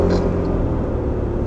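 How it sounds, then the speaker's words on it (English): A Suzuki Solio car approaches fast, a close, loud low rumble with engine whir holding steady over the short span. "Got a car coming up fast and hard."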